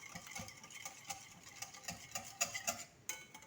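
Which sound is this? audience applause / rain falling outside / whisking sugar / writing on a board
whisking sugar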